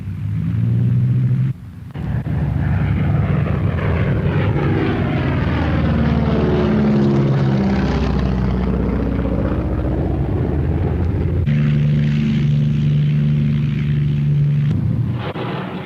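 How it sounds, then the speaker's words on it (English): Avro Lancaster bomber in flight with its piston engines droning loudly and steadily, a deep propeller rumble with shifting harmonic tones throughout, no voices. "as our Lancaster takes to its element"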